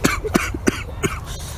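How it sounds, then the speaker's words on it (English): A person coughs in a quick run of four or five sharp, close bursts, with some throat clearing, heard without talk. "I'm sorry that I'm coughing up a storm"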